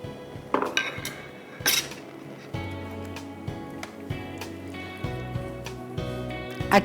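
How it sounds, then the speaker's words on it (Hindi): A spoon scrapes and clinks against a pot while kheer of milk and rice is stirred on the stove until it boils. The strokes are irregular, near and fairly loud, with faint kitchen hum underneath. "जब तक एक उबाल आ जाए मैं इसको हिला रही हूँ"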